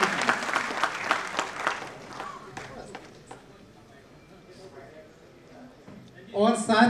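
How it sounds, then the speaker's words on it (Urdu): An audience at a mushaira poetry gathering applauds to welcome a poet. Dense clapping at first fades to sparse claps and quiet murmur, then a burst of voices and noise returns at the close. "آپ زوردار تالیوں سے ایک بار استقبال کیجئے ان کے کلام کا"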